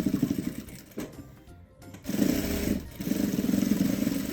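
Sewing machine running in short stitching bursts while finishing the inner lining of a Boho-style maternity bag, reversing for a backstitch at the end, with a brief pause midway before the motor whirs on steadily.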